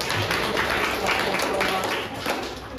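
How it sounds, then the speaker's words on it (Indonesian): A classroom of students claps together in a dense, steady burst of applause filling the room, continuing throughout with a slight dip near the end. "Tepuk tangan untuk kita semua."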